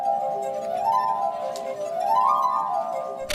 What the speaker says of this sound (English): a man with a glass harp consisting of 33 glasses